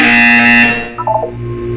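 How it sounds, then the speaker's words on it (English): A buzzer from the video game Portal 2: a steady, loud electronic tone holds for about two-thirds of a second, then a short burst of quick stepped blips follows, over a constant low game hum. "You will hear a buzzer. When you hear the buzzer, look up at the ceiling."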